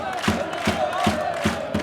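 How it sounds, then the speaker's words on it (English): Stadium crowd at a rugby league grand final, Bradford Bulls against Workington Town, roaring and chanting in celebration, a dense continuous wall of voices with rhythmic pulses swelling roughly every half second. "the crowd is shouting"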